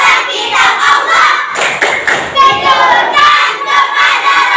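Children in a classroom clap together in a quick rhythmic pattern, producing loud, closely spaced claps mixed with their chanting voices.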